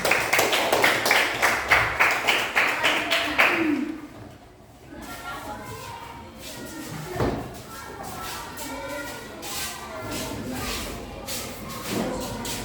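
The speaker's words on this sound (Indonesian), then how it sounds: "Oke, beri tepuk tangan." A small classroom group claps in a quick rhythmic burst of sharp, evenly spaced hand claps for about four seconds, then breaks off into quieter movement and a few scattered taps.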